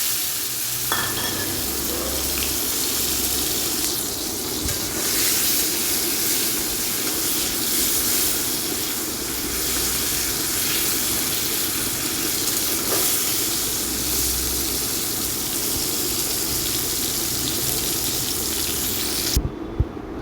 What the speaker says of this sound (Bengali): এবারে গরম তেলের মধ্যে ওই হলুদ লবণ মাখা করলাগুলোকেও দিয়ে দেবো। এগুলোকেও কিছুক্ষণ ভাজা করে নিব লাল লাল করে।